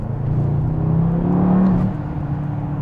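A 2024 Mercedes-AMG GT63 S E Performance hybrid accelerating hard at night, a loud close engine roar rising in pitch and then easing off, alone with no talk.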